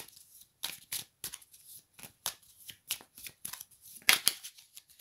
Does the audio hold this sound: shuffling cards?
yes